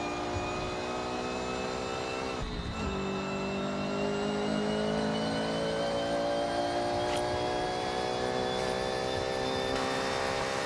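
A Toyota GR86 engine drives in a Forza Horizon racing game, holding a steady whining drone. A sharp pitch shift near the start sounds like a gear change, and the tone then settles into a sustained, slowly rising note.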